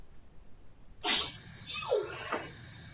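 A single close sneeze with a sharp burst and a quick follow-through, heard in a quiet room.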